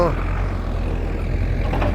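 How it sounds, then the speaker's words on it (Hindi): A helicopter passing high over a hilltop Hanuman temple site in the Uttarakhand hills, a steady low engine and rotor drone that holds evenly throughout, with faint voices in the background. "आसमान में एक हेलीकॉप्टर भी जा रहा है"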